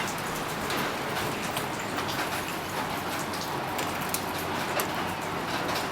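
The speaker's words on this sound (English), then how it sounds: "although it's raining outside" Steady rain falls outside in an even, continuous hiss of drops that holds without pause throughout, with no voices.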